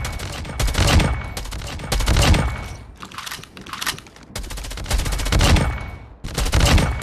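Bursts of automatic gunfire from a custom-sounding new legendary gun in Call of Duty Mobile, loud repeated volleys separated by brief pauses, with no talking.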